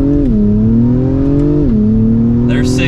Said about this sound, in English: Let's just do a 0 to 60 here.